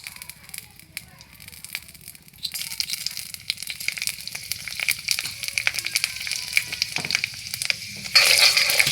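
Panch phoron spices hit hot oil and start sizzling, a quiet crackle that swells into a bright, steady hiss partway through and grows louder near the end, heard close up.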